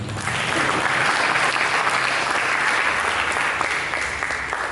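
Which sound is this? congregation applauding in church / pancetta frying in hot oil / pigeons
congregation applauding in church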